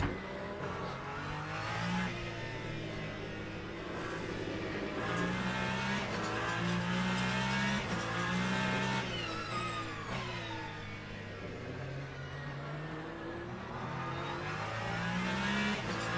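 A hypercar's engine drones and revs in the Le Mans Ultimate racing sim as it slides sideways, a loud, continuous tone rising and falling with a faint edge of tire noise throughout.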